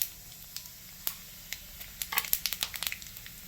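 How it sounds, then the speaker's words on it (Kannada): Cumin seeds crackle in hot oil for a tempering, faint sparse pops at first that build into a quick cluster of sharp crackles over a quiet hiss. "ನೋಡಿ ಗೈಸ್, ಈಗ ನಾವು ಒಗ್ಗರಣೆ ಹಾಕ್ತಿದ್ದೀವಿ."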